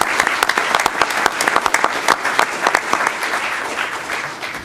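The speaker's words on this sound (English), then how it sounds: "Can we give them a round of applause?" Audience members clap in sustained, dense applause at a Fargo city commission meeting, a steady roomful of hands that gradually thins out toward the end.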